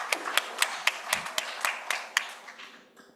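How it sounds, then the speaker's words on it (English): An audience at a conference on ECOWAS at 50 applauds a speaker with sparse, evenly spaced claps that stand out sharply at first, then soften and fade away over a few seconds. "A round of applause for her, please."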